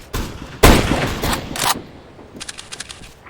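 Gunfire in the game CS:GO, with a few sharp, loud shots in quick succession early on and then a rapid series of fainter, clicking bursts toward the end, heard with no voices.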